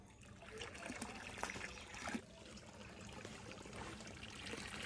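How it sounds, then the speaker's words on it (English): Water streams from a pipe into a small farm dam, a steady close trickle and splash with a continuous wash of flow, alone without voices. "See how fast the water is coming into my dam."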